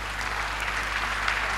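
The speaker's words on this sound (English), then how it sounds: "I think he deserves another round of applause" An audience at a university speaker series event gives a short, steady round of clapping, fairly quiet and distant over a low hum in the hall.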